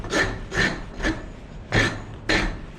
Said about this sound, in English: I'm gonna do this with the rounded side of the rasp here.